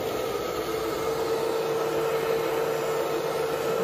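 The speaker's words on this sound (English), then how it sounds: "I'm going to use the blow dryer because I want it to stick." A blow dryer on a low setting blows hot air to set Paverpol on a sculpture, giving a steady, even whir with a constant tone, moderately quiet and with no talking.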